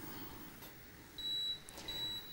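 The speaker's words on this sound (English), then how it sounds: "So there's a beep to say they're ready." A thin, high-pitched electronic beep from a Belgian waffle maker signalling it is ready sounds twice, each lasting about a quarter second, over a quiet room hum.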